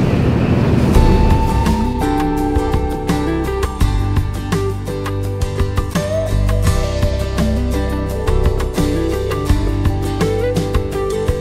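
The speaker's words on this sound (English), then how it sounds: "It's really cute little ferry. We've set sail." A small ferry crosses a bay, its engine a steady low drone under continuous wave wash and wind buffeting on the microphone, loud and close throughout.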